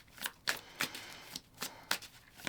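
Oracle cards are shuffled by hand in a series of about nine quick, crisp riffling bursts at a steady rhythm, close and fairly quiet with near silence between them.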